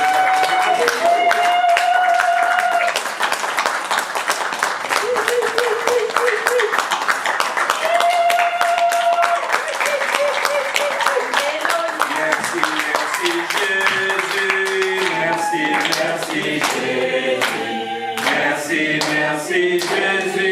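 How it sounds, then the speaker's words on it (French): Steady clapping from a congregation at a baptism ceremony for children, rising and falling over continuous singing and music that carry through the whole stretch. "On applaudit pour ces enfants et on demande à tout le monde de les applaudir."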